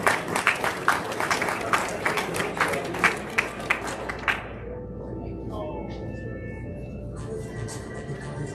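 Audience applause at a 2025 drone racing regional event: a crowd claps steadily for about four seconds, then stops, leaving a murmuring hall with faint background tones.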